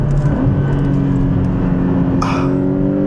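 A Porsche 718 Boxster GTS with a 2.5-liter four-cylinder engine sounds close and loud, with tonal engine notes that rise and shift as it pulls, and a brief burst of higher noise near the end.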